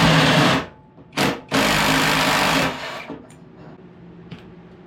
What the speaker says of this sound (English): Take it off with the impact.